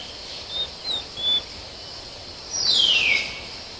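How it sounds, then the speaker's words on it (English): Birds call in a jungle in the morning, giving a few short, high chirps early on and then a longer falling call, all set against a faint, steady insect hum. "the jungle pulses with the sounds of insects and birds"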